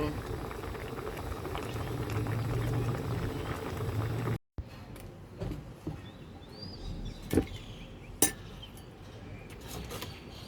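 Tilapia soup with young tamarind leaves, spring onion and herbs boiling in a pot, a dense close bubbling that briefly cuts out, then resumes with a few clinks of utensils against the pot.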